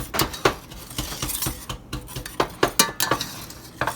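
Metal utensil stirring Jamaican oxtail pieces in a pot, producing a series of close, sharp clinks and scrapes in an irregular rhythm, with no talking.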